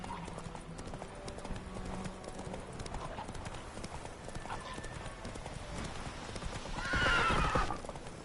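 Roach, a horse in the video game The Witcher 3, trots with steady clip-clopping hooves under game ambience, then lets out a louder neigh near the end.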